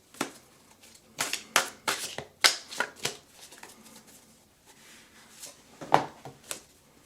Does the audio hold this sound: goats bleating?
no